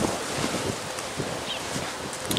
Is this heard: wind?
yes